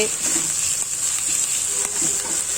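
Fish frying in a pan for a pumpkin dish, with a steady close crackling sizzle throughout and faint stirring clicks, no voices.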